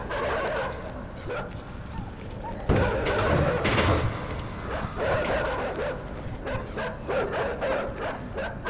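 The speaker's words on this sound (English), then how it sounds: "Bark all you want." Barking dogs in the side-scrolling game Inside, sharp repeated barks recurring across the scene over a dense game soundtrack, with a louder burst of activity partway through.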